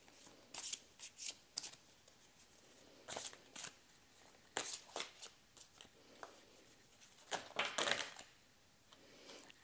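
Oracle cards from a fairy deck are shuffled for a tarot-style reading, with soft, irregular riffling bursts and flicks that are close, quiet and spaced out, with no talking.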